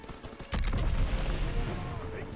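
Sustained gunfire in a Call of Duty WW2 battle, a dense rattle of rifle and machine-gun shots that erupts after a brief quieter moment and keeps going, loud and close, with battlefield shouting mixed in.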